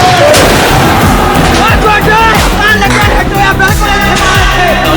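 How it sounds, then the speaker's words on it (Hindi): Heavy booming blasts from a strike on an airbase runway and buildings, loud and repeated, with crashing impacts and debris amid a chaotic din and shouting voices. "अभी धमाका हो गया"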